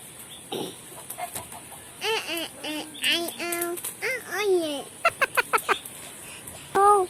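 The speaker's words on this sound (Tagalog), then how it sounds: "Let's feed the chickens." Chickens cluck and squawk close by in repeated short calls and bursts, with a few sharper cackles near the end.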